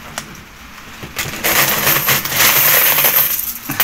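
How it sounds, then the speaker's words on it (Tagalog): Small handful of coins counted at a home sari-sari store on a rainy morning, with repeated metallic clinks and jingles, loud and close, building after a quieter start and continuing steadily with no talk. "magbilang tayo ng konting barya"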